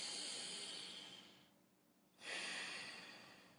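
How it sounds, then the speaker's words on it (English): A steady inhale through the nose during a yoga breathing exercise, a soft airy hiss that fades, pauses briefly, then returns as a second, stronger breath, close and quiet. "Breathe in through the nose."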